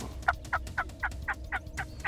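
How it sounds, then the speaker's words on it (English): A wild turkey in Texas hunting country gobbles in a rapid rattling series of about eight pulses, moderately distant and clear against quiet outdoor background. "We're gonna give him a whirl, see if we can get him to gobble"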